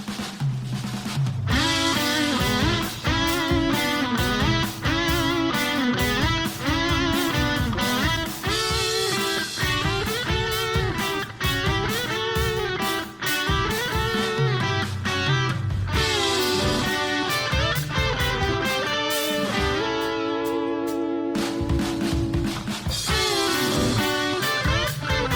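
Electric guitar playing a song's solo part, loud and continuous, with rapid picked notes and chordal riffs driving on steadily without talk over it.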